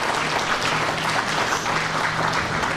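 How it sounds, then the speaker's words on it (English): Steady applause fills a school ribbon-cutting ceremony for Belmont Cragin Elementary School and Early Childhood Center in Chicago, a continuous dense patter of many hands clapping without a break. "You can clap for that."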